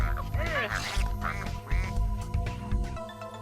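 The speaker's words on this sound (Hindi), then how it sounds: "वो एक मामूली बत्तख थी।" A duck quacks several times in quick, uneven calls at close range, mixed with background music and other sounds in a farmyard pen setting.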